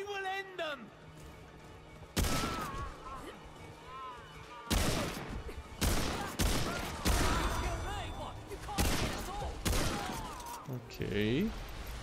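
Bursts of gunfire from the video game Remnant II crack out in separate loud volleys, several sharp shots spaced across the stretch with game sounds and a voice talking between them.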